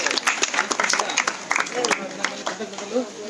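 Scattered audience clapping rises and flickers at a school event where books are handed out to government school students in Tadipatri, with a voice talking over the applause.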